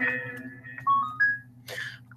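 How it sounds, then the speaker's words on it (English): Soft tonal blips from the Yume Nikki video game menu, a few short electronic notes over a low steady hum, faint and close. "you hear the noise of the menu?"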